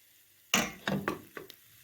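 Liver pancake batter hits a hot pan greased with sunflower oil with a sudden sizzle, followed by a few short spitting crackles that fade quickly in a quiet kitchen.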